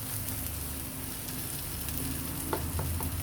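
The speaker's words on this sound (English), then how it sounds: "You don't want it to be burnt, so you just have to keep on stirring it for a few more minutes" Homemade XO sauce fries in a pan under constant stirring. A dense, steady sizzle fills the clip, and a few sharper utensil scrapes and clicks come through near the end, with no talking.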